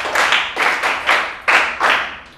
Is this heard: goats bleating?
no